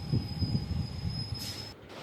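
An MMTS Hyderabad local train rolls along the rails with wheels squealing, a high sustained metallic whine over a low rumbling chug, fairly close and continuous.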